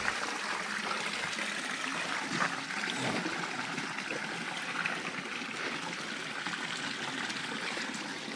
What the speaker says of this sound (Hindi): कितना भारी पानी है।